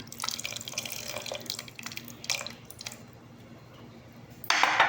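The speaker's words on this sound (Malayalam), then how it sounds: "പുളി ഇവിടെ പിഴിഞ്ഞ് വെച്ചിട്ടുണ്ട് ഞാൻ ഈ പുളി ഒഴിക്കുമ്പോൾ വളരെ ശ്രദ്ധിക്കണം" Squeezed tamarind water poured into a pot of roasted-coconut Kerala sambar gives a close, steady splashing trickle with scattered drips, ending in a louder, brighter burst of liquid.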